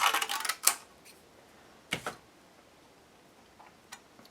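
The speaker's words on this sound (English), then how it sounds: "I'm gonna cut this piece with some scissors." Scissors snipping through a thin sheet of mica, giving a quick cluster of crisp clicks and crackles, then one or two isolated snaps and faint ticks in a quiet room.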